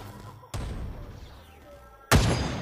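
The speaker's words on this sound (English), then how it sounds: "he will die when I explode the barrel." A barrel explodes in the party shooter Big Fat Battle, two heavy booming blasts about a second and a half apart, the second louder and closer, over a low game rumble.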